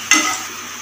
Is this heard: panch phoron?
yes